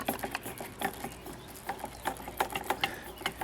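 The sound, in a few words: McCormick Deering M tractor fuel pump running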